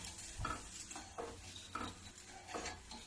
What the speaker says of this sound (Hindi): देखो इसी तरीके से मैं चलाते रहूंगी